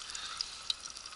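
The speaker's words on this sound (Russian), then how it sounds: "Чтобы жарить печень, тут вот масло надо не жалеть." Fish liver fries in a generous amount of oil, giving a steady close hiss of sizzling with a couple of small sharp pops, and no talking.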